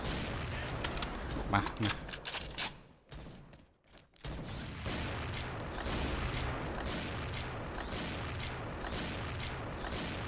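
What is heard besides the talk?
sniper rifle gunshots in a shooter video game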